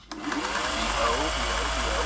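A vintage Singer 401A sewing machine runs steadily at close range, a continuous whirring motor hum with rapid needle chatter, starting abruptly and holding an even pace, while someone talks over it.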